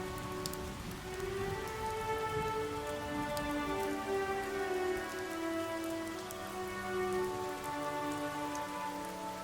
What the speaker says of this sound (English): I managed to get the raindrops to fall perfectly and evenly like rain